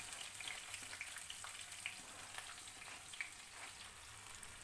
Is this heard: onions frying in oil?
yes